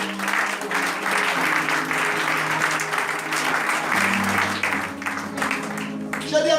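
A church congregation claps and applauds together in sustained, fairly loud applause, with voices and a low musical tone running underneath.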